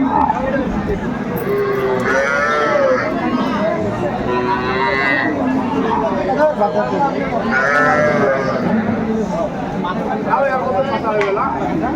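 Cattle, including cows with calves, low and moo repeatedly amid a noisy market at Aftabganj, with people chattering and bargaining loudly throughout.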